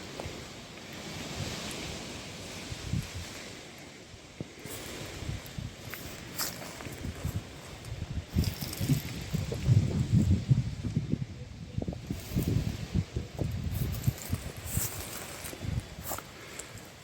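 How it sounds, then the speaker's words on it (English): Gusting wind buffets outdoors in the Rhondda, rising and falling with rough rumbling bursts, mixed with occasional scuffs and footsteps. "It's a nice windy day in the Rhondda today."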